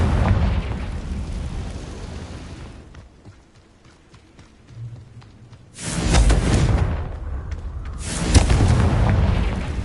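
Confringo spell explosions in Hogwarts Legacy: booming blasts that land loud and close, one near the middle and another shortly after. Quieter rumbling and small ticks come before them.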